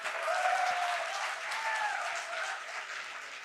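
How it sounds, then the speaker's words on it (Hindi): At a business seminar in Delhi, a large audience breaks into loud, sustained applause that fills the hall, its dense clapping swelling briefly and then easing off slightly over a few seconds. "जोरदार तालियां"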